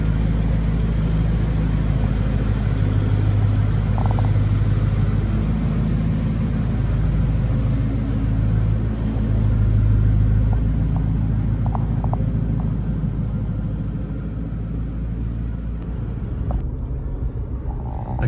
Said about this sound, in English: Okay, so we're driving the 1984 Cadillac Seville Elegante.